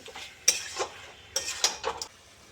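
A spoon scraping and clinking against a cooking pot while stirring chicken curry made with chana dal, in two short bursts of metallic knocks with quiet gaps between them.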